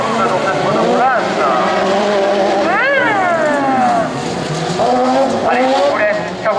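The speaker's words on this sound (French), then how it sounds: "Allez, je vous laisse savourer le bruit du moteur force de Pierre Le Guillou dans la ligne droite sur le circuit de Monde." Super Buggy autocross single-seater with a Jumbo chassis at Mauron, 2017 semi-final, roars loudly down the straight, its engine howling and rising and falling through repeated up-shifts and throttle changes.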